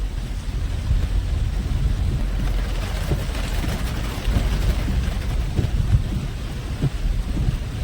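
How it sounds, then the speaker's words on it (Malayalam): Heavy rain pours down on the Adimali route in Kerala in a dense, continuous hiss, with deep low rumbling underneath and no voices. "നല്ല മഴയാണ് കേട്ടോ, നല്ല മഴ"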